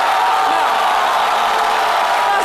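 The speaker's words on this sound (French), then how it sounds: "Ça, franchement, ça s'applaudit" A studio audience on a television talk show applauds and cheers in a dense, loud, continuous wash of clapping that fills the whole moment.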